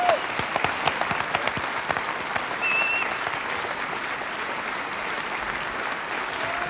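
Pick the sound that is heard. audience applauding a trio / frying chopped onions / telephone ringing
audience applauding a trio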